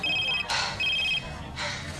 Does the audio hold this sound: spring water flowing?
no